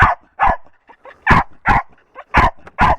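Several dogs bark in short, loud bursts, about seven sharp barks over a few seconds, close by and with no talking over them.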